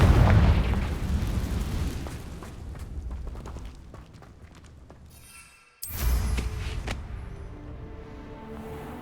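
A Confringo spell blast in Hogwarts Legacy: a heavy, booming explosion rolls out and decays over several seconds, then a brief silence gives way to a second sharp burst followed by lingering rumble and crackle.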